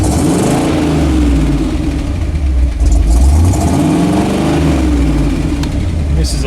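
An AMC Rebel Rogue's engine runs steadily and loudly up close, a deep rumbling drone with rising and falling revs, a voice faintly mixed in.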